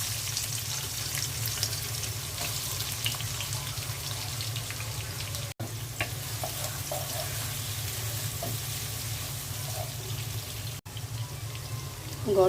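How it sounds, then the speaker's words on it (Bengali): Onions fry in hot oil in a cooking pot, a continuous close sizzle with faint crackles and light clinks, briefly cut twice, and no talk. "এখন তেল দিয়ে দিচ্ছি, পেঁয়াজ দিয়ে দিচ্ছি,"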